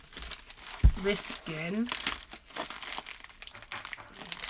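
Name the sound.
opening a crinkly mail package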